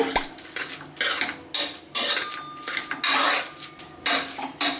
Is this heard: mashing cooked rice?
yes